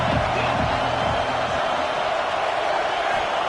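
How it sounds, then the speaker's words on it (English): A home crowd roars at a college football game, a broad sustained wash of cheering from a large stadium, with some low rumbling early and the noise holding steady throughout. "This crowd ready to make its presence known."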